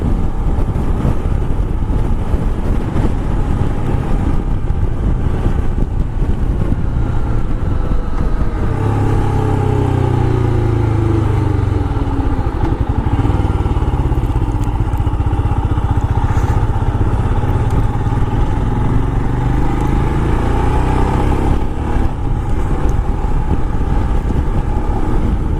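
A 2022 Royal Enfield Himalayan riding along a road, its engine droning steadily and loudly for the whole stretch with heavy wind rush over the microphone and the pitch rising and falling as it accelerates.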